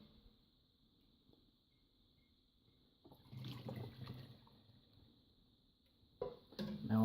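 Homemade sugar syrup for bees poured from a ladle through a funnel into a jar, a soft watery trickle and splash that swells in two bursts over a steady faint background hum.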